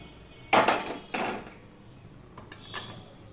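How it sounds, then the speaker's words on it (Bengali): Fried mung dal is scraped out of a pan into a bowl: two close, clattering metal scrapes, then a few fainter knocks and scratches. "নামিয়ে একটা বাটিতে আমি ঢেলে নিচ্ছি"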